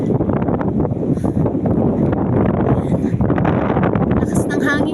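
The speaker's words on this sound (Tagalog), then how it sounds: "Lakas ng hangin, guys." Strong wind buffets the microphone in a constant loud roar at Baler, Aurora Province, Philippines, with a voice talking underneath.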